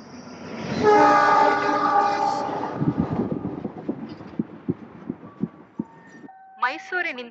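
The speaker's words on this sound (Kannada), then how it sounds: "ಮೈಸೂರಿನಿಂದ ಬರುತ್ತಿರುವ ಪ್ಯಾಸೆಂಜರ್ ಟ್ರೈನ್ ಇನ್ನೇನು ಕೆಲವೇ ನಿಮಿಷಗಳಲ್ಲಿ ಪ್ಲಾಟ್ಫಾರ್ಮ್ ನಂಬರ್ 6ಕ್ಕೆ ಬರಲಿದೆ" A passenger train from Mysore pulls into a railway station toward platform 6. A loud, drawn-out horn blast opens, followed by a rhythmic clatter of wheels over rail joints, and a voice is heard at the end.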